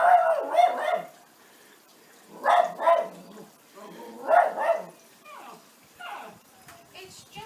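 A pet dog barks in bursts indoors, several quick yaps grouped together and then repeated after pauses, close and moderately loud, with softer whiny yelps near the end.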